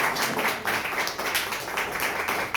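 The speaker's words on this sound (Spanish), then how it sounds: "Démosle un aplauso al Señor que nos llamó" Church congregation applauding during a sermon, a steady spread of many hands clapping with uneven bursts, moderately loud and without talk.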